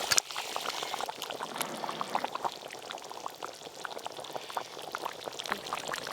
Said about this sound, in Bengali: মাংসটা সেদ্ধ হয়ে এসে এবার আলুটা দিয়ে দেবো। ভেজে রাখা আলু।